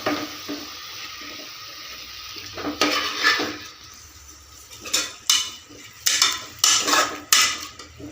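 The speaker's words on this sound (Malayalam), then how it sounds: "നൈസായിട്ടൊന്ന് ഇളക്കി കൊടുക്കാം നമുക്ക്" Metal utensils scrape and clatter against a pan in short bursts as ground spice paste is stirred for beef roast, with a soft sizzle underneath and brief pauses between strokes.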